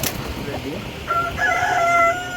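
A chicken crows on a rooftop farm, a rising, drawn-out call that starts about midway and carries loudly to the end over soft background noise.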